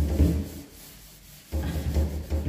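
A small scrubbing sponge rubs over the wood of an old church pulpit during cleaning, giving close, coarse scratchy strokes in two bursts with a brief quieter pause between them.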